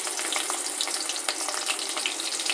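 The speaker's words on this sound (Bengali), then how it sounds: "এর জন্যে গরম তেলে এখন আমি দিয়ে দেব পেঁয়াজ কুচি।" Chopped onions crackle and sizzle steadily in hot oil for a rohu fish curry, a dense, close, continuous frying hiss with no voices.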